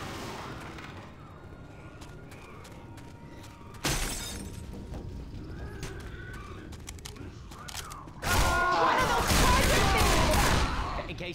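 Left 4 Dead 2 gunfire in the Dead Center hotel, with scattered shots and crackling bursts that build into heavy, dense firing near the end, while voices speak underneath.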